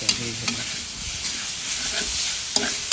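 Pork stir-frying with curry paste in a pan, a bright continuous sizzle with scraping stirs and occasional clinks of a utensil, close and alone.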